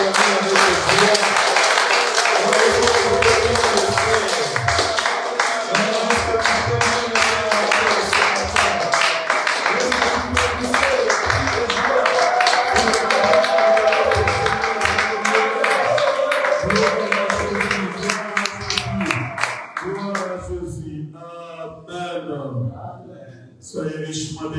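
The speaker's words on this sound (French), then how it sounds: "Est-ce que tu peux acclamer avec joie?" A church congregation at a Pentecost service applauds and cheers with joy, a loud, sustained burst of dense clapping and voices that thins out near the end.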